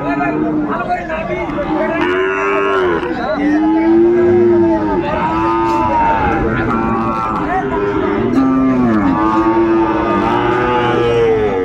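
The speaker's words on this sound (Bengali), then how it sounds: "শাহিওয়ালের ষাঁড় বাচ্চা।" A Sahiwal bull calf moos repeatedly in loud, drawn-out calls close by at a cattle market in Dinajpur, amid a busy crowd with people talking and chattering in the background.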